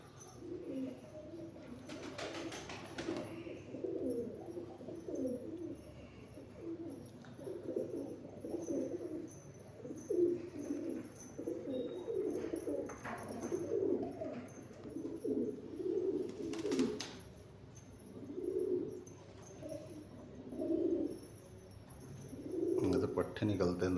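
Madrasi high-flying pigeons coo in low, throaty, repeated bursts throughout, with a steady background hum and occasional brief noises.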